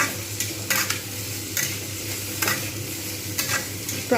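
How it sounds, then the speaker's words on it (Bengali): Potatoes frying in a pan are stirred with a utensil, a steady sizzle broken by rhythmic scraping strokes at roughly one-second intervals. "দিয়ে দেবো আলুগুলো জাস্ট একটু নাড়িয়ে নেব"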